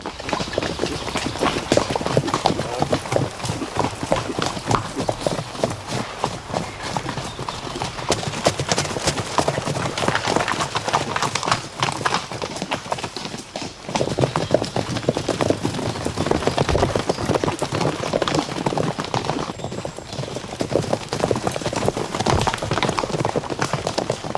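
Barb horses' hooves clip-clop in a dense, continuous patter of many quick strikes, fairly close and steady, with no clear talk over them.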